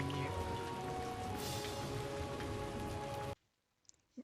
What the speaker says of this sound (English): See the little raindrops when they hit the ground